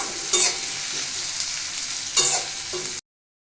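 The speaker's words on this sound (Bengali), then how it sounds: "টমেটো কুচি এটাকে একটু ভালো করে নাড়াচাড়া করবো" Chopped tomato frying in a pan for a chicken curry is stirred with a spatula, giving steady sizzling with two louder scraping strokes, close and without voices.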